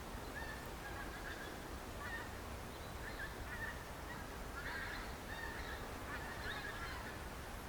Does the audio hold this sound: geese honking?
yes